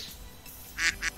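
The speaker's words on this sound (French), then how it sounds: "le bruit du canard" Two short, nasal duck quacks from Minecraft sound close and clear, the first a bit longer, the second quickly following over a faint background.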